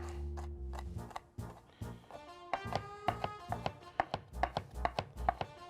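A knife minces garlic on a cutting board in a small cooking workshop, with quick, close taps coming in uneven bursts that grow denser and sharper toward the end.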